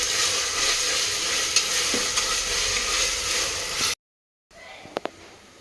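Chopped mint fries in a pan for a plain biryani and is stirred with steady sizzling, scraping strokes. The sound cuts out briefly, then returns quieter with a couple of sharp utensil knocks.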